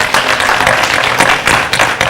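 Audience at a Paraguayan harp and song performance breaking into close, loud applause, brisk irregular clapping with sharp individual claps standing out through the burst.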